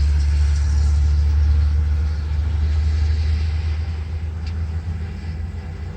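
A multi-axle truck running with no muffler rumbles nearby in a deep, loud, steady idle, its heavy low drone easing slightly partway through and carrying on alone without speech.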